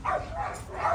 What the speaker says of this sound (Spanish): disculpen a mis perritos escandalosos